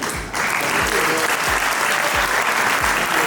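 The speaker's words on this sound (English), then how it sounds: "Big round of applause to the First Lady of Liberia." An audience breaks into applause after a speech by the First Lady of Liberia at a Merck Foundation Africa Asia Luminary event, dense sustained clapping starting abruptly and holding steady, with a few low thumps underneath.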